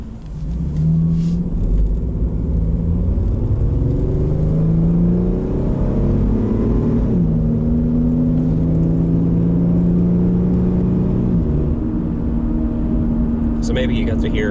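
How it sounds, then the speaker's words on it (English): A Jeep Liberty engine fitted with aftermarket headers and exhaust rumbles steadily and close, with slow rises and falls in pitch as the revs shift, continuous for the whole stretch. "So maybe you got to hear a little bit of the engine and the exhaust and stuff there"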